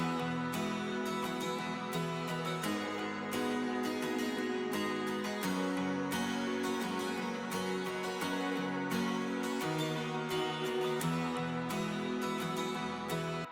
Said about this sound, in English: Another guitar which is strummed and it comes from Contact.